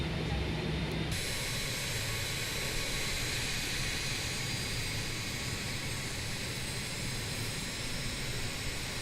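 Steady jet engine roar of a BAE 146 airliner in flight in a flight simulator game, with a broad hiss, constant and loud for the whole stretch, with no voices.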